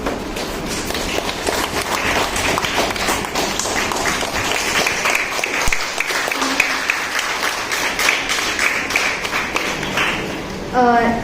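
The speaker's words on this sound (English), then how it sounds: "he deserves a round of applause for such an amazing achievement" Audience applause at a teachers' association farewell for a retiring teacher: sustained, dense clapping from a crowded hall with sharp individual claps standing out, running over ten seconds, with some voices and speech mixed in.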